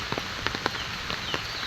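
Rain falling at Jinda Park near Dhaka, a steady soft patter with scattered louder drops hitting nearby surfaces, no voices.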